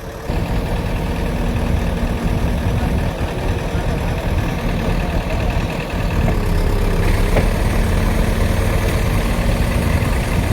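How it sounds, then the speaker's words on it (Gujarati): A tractor stuck in soft ground while hauling manure idles with a steady, heavy low engine rumble that continues unbroken and up close. "ટ્રેક્ટર થઈ ગયું ચાલુ અને જેસીબીથી હવે ધક્કો મારવાનો છે"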